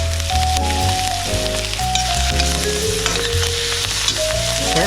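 Salmon fillets sizzling steadily in a hot pan while being basted with herbs, the frying hiss loud and continuous with faint metallic spoon clinks and background music.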